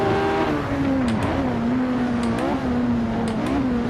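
A 1967-era McLaren race car engine in Assetto Corsa at the Reims-Gueux circuit, a loud, steady high-revving drone that holds pitch with brief dips at gear shifts, as another car pulls past.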